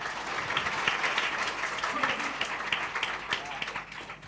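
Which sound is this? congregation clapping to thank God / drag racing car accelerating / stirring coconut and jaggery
congregation clapping to thank God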